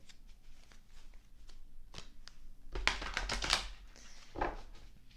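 Thick tarot affirmation cards are shuffled by hand, first as faint scattered ticks, then a dense riffling burst in the middle and a shorter flurry near the end, close and quiet.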